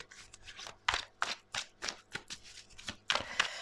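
Tarot cards being shuffled close up, a quick run of crisp riffling slaps and flutters in an irregular rhythm, moderately quiet, with no talk.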